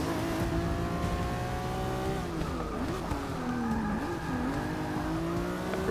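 Race car engine in the video game Forza Motorsport 6, droning loudly and continuously with its pitch rising and dipping as it shifts and revs through corners.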